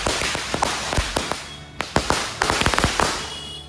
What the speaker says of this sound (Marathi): आता फटाके वगैरे लावत आहेत हे बघा